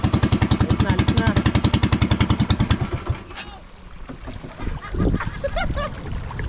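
A small boat's engine chugs in a fast, even, loud pulse for about three seconds, then sputters and cuts out, leaving water noise and people talking.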